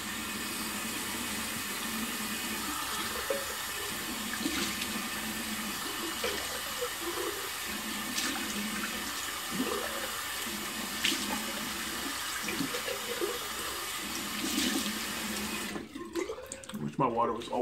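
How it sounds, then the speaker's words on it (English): Cold water runs steadily from a tap into a sink, a continuous close rush that cuts off near the end, with someone talking over it. "I'm gonna go ahead and get some cool water going."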